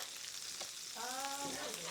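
Soft, steady sizzling crackle of beef, pork and lamb burgers cooking on a hot grill, with a brief voice murmuring over it partway through.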